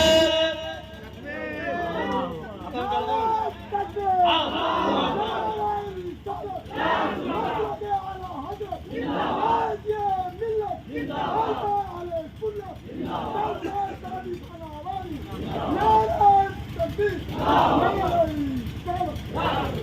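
A crowd at a jalsa gathering in Shampur, Pirpainti, Bhagalpur, shouts slogans in repeated rhythmic bursts, loud call-and-response roars rising and falling every couple of seconds, with a leading voice between them.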